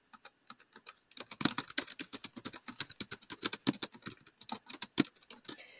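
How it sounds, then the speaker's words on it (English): Rapid, irregular clicking of a computer keyboard as a property address is typed into a form, close and clear with short bursts and pauses, no voices. "So type in the property address."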